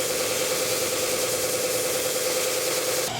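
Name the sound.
power sander smoothing edges of scrap wood hearts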